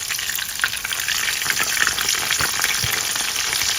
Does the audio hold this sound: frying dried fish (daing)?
yes